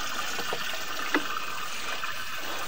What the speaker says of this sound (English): See the water dumping in.